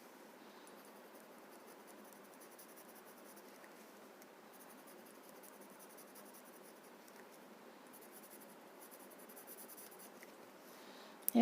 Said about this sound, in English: First let us add the graphite.